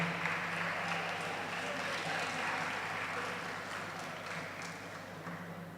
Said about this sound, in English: So go ahead and applaud.